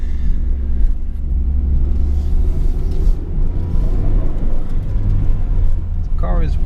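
A 1997 Nissan 180SX Type X on its original exhaust idles close by with a low, even rumble, steady and fairly quiet, while a person talks over it.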